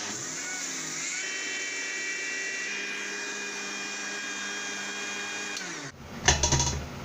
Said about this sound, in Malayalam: ഇനി ഇതിലേക്ക് ആവശ്യത്തിന് വെള്ളം കൂടെ ഒഴിച്ച് നന്നായിട്ട് അരച്ചെടുക്കുക.